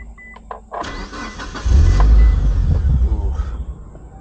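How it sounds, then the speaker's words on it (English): A Mitsubishi Evo 8 RS engine cranks and fires up, then idles and revs as the car pulls away, a loud, close low rumble building and holding steady. "Let's go for our first drive in the Evo."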